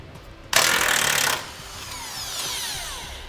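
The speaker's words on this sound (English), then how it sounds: "We'll just remove this bolt on each side." Power tool loosening a 21mm bolt on the factory bumper hitch reinforcement bracket under a 2018 Chevrolet Silverado: a loud, steady, buzzing whir for just under a second, then a fainter mechanical rattle trailing off.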